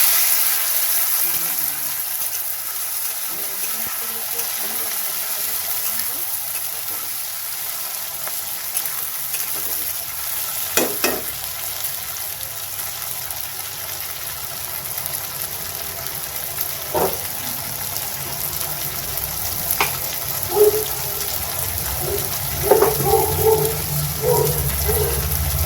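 Chopped beans frying in oil for a mixed vegetable dish, giving a steady, fairly loud sizzle with occasional pops and utensil taps that become busier near the end.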